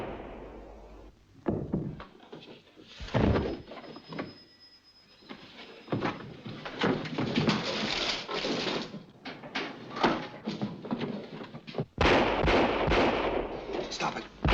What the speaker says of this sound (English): Stop it. Stop shooting.